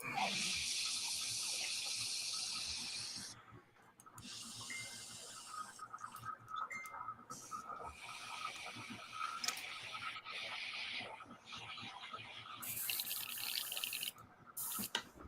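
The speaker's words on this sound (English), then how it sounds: "Clean the airbrush out." An airbrush is cleaned out in sharp bursts of hissing, spraying air, a long spurt at the start followed by stop-start blasts with quieter gaps between.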